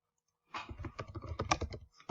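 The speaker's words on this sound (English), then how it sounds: "See, look at my keyboard. Man, I'm just not used to typing on this thing yet." A computer keyboard is typed on at close range, with quick, uneven clusters of crisp key clicks that start after a brief silence and run steadily to the end.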